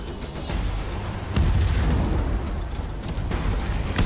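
Enemies detonating in Halo Wars 2 set off a series of heavy, rumbling explosions, with deep booms and blasts that overlap in a dense barrage throughout.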